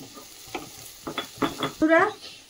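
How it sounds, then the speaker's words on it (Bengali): Vegetables lightly frying in a pan with salt, soft sizzling with several quick stirring scrapes and a brief high metallic squeak near the end, close by. "সবজিটা তো হালকা করে যে ভেজে নিচ্ছি, আর তার মধ্যে দিয়ে দিলাম এই যে নুন দিয়ে দিচ্ছি"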